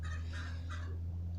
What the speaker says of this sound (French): Vous montrer aussi en même temps le petit repas des poules.